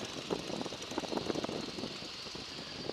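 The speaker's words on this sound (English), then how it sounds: "if you listen to the airplane now, you can hear the whistle" A light airplane in flight gives off a steady drone with a faint airflow whistle, heard from inside the cabin at moderate level with no talking.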